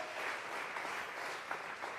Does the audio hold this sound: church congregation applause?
yes